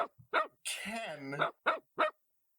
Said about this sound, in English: That dog is barking a lot.